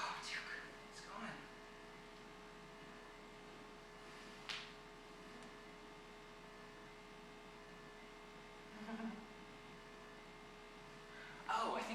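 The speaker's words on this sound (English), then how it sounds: "Oh, I think the other fan noise is I forgot to turn off the air tool." A hot air rework tool left running in an electronics workshop gives off a steady, faint fan hum with a constant tonal drone, broken only by a few brief soft noises.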